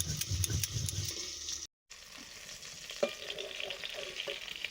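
Tangra fish frying in hot oil gives a steady, loud sizzling hiss with occasional clinks and a sharp pop, broken by a brief moment of silence partway through.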